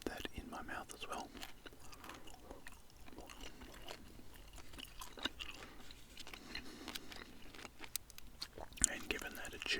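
Soft close whispering with gum being chewed, moist clicks, smacks and light crunches scattered under the hushed voice, all quiet and intimate.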